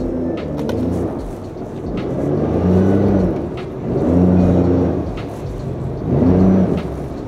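Jet ski engine gently throttled to push the craft up onto its trailer, a low rumbling idle that swells in three short soft revs, nearby and steady with no talk.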